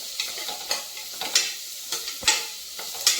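Onions fry on a low flame in a pan for chana masala pulao, a soft steady sizzle punctuated by about a dozen sharp spatula scrapes at an uneven rhythm, close up with no voices.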